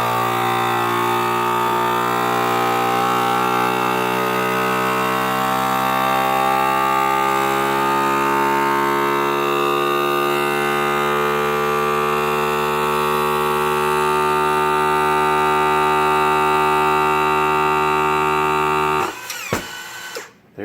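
A FoodSaver V4860 vacuum sealer draws air out of an accessory with a steady, loud motor drone that holds for about nineteen seconds, then stops abruptly with a short release of pressure.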